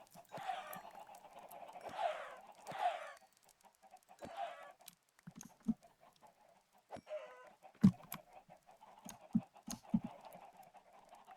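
Minecraft chickens in a coop on a rainy hardcore survival world give faint, sporadic clucks and short squawks, spaced irregularly among soft clicks and quiet game ambience.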